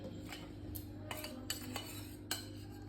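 Chicken tikka marinade of meat, yogurt and spices being mixed in a bowl, with soft scraping and several faint spoon clinks against the dish, quiet and close.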